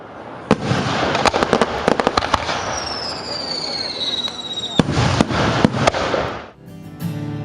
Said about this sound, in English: Fireworks for sure